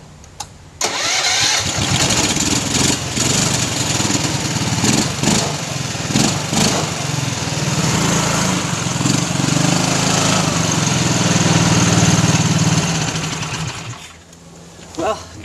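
The engine of a homemade ATV quad truck cranks on its electric starter and catches, then runs with a close, rough, sputtering mid-pitched chug for over ten seconds before dropping back near the end.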